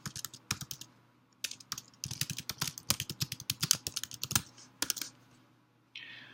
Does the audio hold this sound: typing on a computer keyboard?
yes